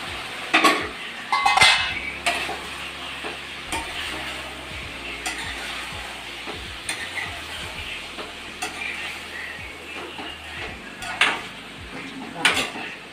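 A lid is set onto a cooking pot of chicken curry with tomatoes and onions, giving a few sharp metallic clinks amid steady stirring and a low sizzle, close and moderately loud.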